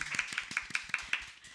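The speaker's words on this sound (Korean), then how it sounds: "모두 뜨거운 박수로 맞이해 주세요." An audience claps a short, even rhythm of about eight sharp, close hand claps in unison to welcome a speaker at a youth autonomy institute intern presentation, with no talk over it.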